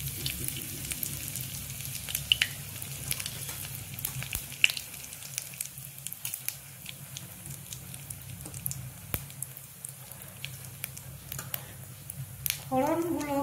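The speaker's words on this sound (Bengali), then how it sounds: "এবার আমি একটা শুকনো লঙ্কা দিয়ে দিলাম, আর দিলাম হিং আর গোটা জিরে।" Dry red chilli, asafoetida and whole cumin seeds fry in hot oil in a kadai, giving soft, scattered crackles and pops over a low sizzle, fairly quiet and close, with a brief louder burst near the end.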